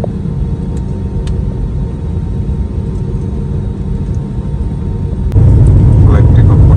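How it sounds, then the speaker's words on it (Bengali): A China Southern Airlines airliner on its takeoff run, heard from inside the cabin: a steady engine hum that jumps into a louder, deeper roar as thrust builds. "ফ্লাইট টেক অফ করতেছে, অলরেডি টেক অফ করে ফেলছে।"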